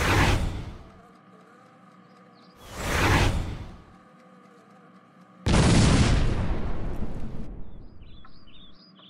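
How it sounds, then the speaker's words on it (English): Flames set alight in a kitchen in a game, three loud rushing whooshes in succession, each swelling and fading, the last longer and roaring, with faint chirping effects between them. "now let's set it on fire"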